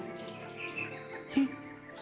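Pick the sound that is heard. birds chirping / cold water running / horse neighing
birds chirping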